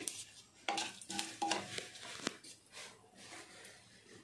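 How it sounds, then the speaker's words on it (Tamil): Mustard seeds spluttering in hot oil in a pan, crackling and popping in quick bursts, mixed with clinks and scrapes of a spoon stirring, fairly close and moderately loud. "கடுகு பொரிய ஆரம்பிச்ச உடனே உளுத்தம் பருப்பு"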